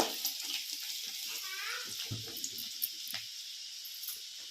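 Finely chopped garlic frying in hot oil for an egg gravy, a soft, steady sizzle with small crackles and occasional stirring clinks, fairly faint and close.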